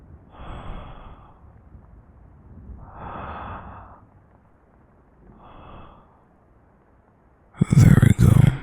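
Slow, deep breaths come in three long, close, soft swells spaced a few seconds apart, each an airy inhale or exhale, followed by a sudden louder burst of voice at the end.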